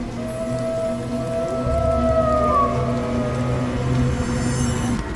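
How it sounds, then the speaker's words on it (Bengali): A cartoon jackal howls in the distance on a rainy night, a long wavering wail that rises and bends over a steady bed of rain and low rumble. "দূরে শোনা গেল শিয়ালের ডাক।"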